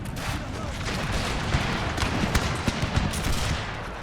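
A steady crackle of flintlock musket volleys rolls across a Total War battlefield, distant overlapping shots with a few sharper reports standing out, moderately quiet.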